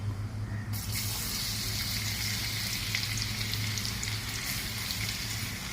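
Cumin, mustard seeds and garlic hit hot frying oil for Marathi-style spicy okra bhaji, giving a loud, steady sizzling hiss that swells in after a short quieter start and runs unbroken over a low kitchen hum, with no voices.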